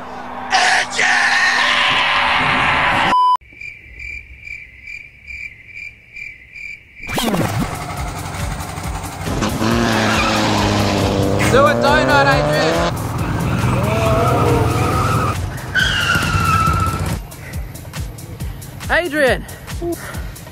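Vintage car ride at Dreamworld theme park in Australia: a rumbling, revving car with squealing tyres, loud and close, mixed with excited shouts and people talking over it, after a brief burst of electronic start-up tones.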